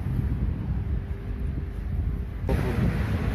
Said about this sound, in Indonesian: Dari tanggal 28 itu angin udah kencang.